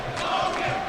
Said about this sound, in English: Student section cheering on Logan Hill.